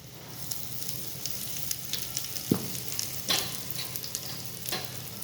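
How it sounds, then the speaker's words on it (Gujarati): Sesame and carom seeds crackle in hot oil already popping with mustard seeds during a tempering for Gujarati handvo, giving a steady sizzle broken by several sharp pops and spits. "રાઈ તતડી ગઈ છે, હવે આપણે એમાં તલ અને અજમો નાખીશું।"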